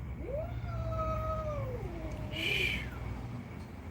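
Cats fighting, one caterwauling in a long, wavering, rising-and-falling yowl that runs nearly four seconds, with a sharper screech near the end over a steady low background rumble.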